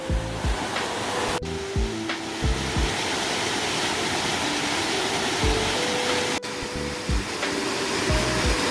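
Water pours down a rocky gorge in the Yukdam falls area of Seoraksan, a steady, loud rushing roar with no breaks, and faint tonal notes drift above it now and then.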